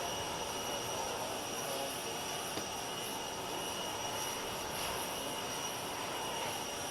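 Steady, loud jet engine roar fills the air, a continuous broadband whine and rumble from the President's aircraft idling nearby on the tarmac, with no talking.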